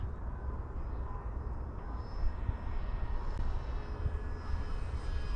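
A DuraFly Tundra RC airplane flies in gusty wind, its small motor giving a steady drone mixed with rumbling wind noise, fairly close and continuous with no talking.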